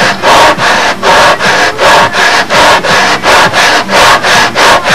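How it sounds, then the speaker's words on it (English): Wood sanded by hand with sticky-back sandpaper while fitting a joint on a B-25 model fuselage: loud, close, even back-and-forth strokes, about two per second, steady and alone. "of course I have this sticky back sandpaper as a good starting point"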